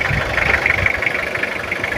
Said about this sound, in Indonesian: Sekalian ini mesinnya udah kita nyalakan, sambil kita dengerin suaranya bagaimana.